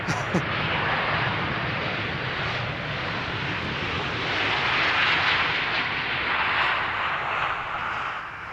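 An airliner arriving on runway 18R at Amsterdam Schiphol Airport makes a steady, broad jet roar that swells gently and stays fairly loud throughout, with no voices over it.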